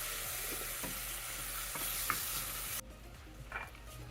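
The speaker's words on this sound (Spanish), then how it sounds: "Y con una cuchara los mezclamos con el azúcar" A spoon stirs blueberries through melting sugar in a pot for blueberry jam, giving soft scraping and gentle sizzling with a few faint clicks, close up and without talk.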